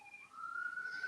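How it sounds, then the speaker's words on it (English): Faint, distant siren blaring outdoors, a thin rising wail that sits low and quiet in the background for a brief moment. "Sirens blaring."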